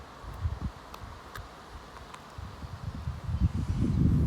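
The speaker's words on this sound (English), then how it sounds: "I'm hearing the wind right now" Wind blows outdoors in spring, producing uneven low rumbling gusts that buffet the microphone and grow stronger toward the end.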